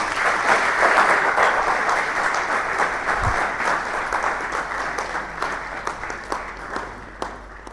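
An audience at a campus entrepreneurship event in Ghana breaks into sustained applause, a loud, full roar of many hands that gradually thins into scattered claps toward the end.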